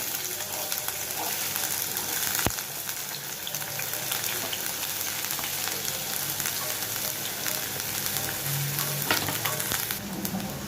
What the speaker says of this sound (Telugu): నూనె వేసుకున్న తర్వాత మనం చిన్నగా కట్ చేసుకున్న ఎర్రగడ్డలు కూడా అందులో వేసేద్దాము